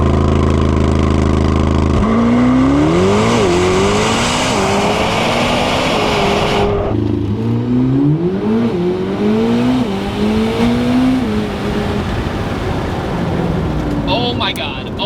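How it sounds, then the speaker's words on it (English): A 2026 Chevrolet Corvette ZR1X launches hard under launch control. A loud engine roar climbs through several rapid gear changes with stepped rises in pitch, then keeps pulling after a brief dip, with voices reacting over it. "I am going to do the launch control."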